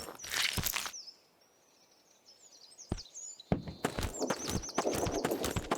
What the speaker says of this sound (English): I swear I hear footsteps